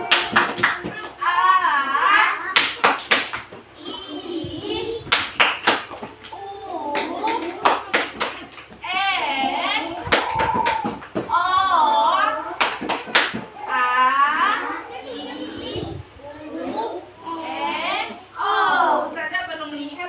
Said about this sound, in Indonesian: kita tepuk dulu. Tepuk huruf vokal.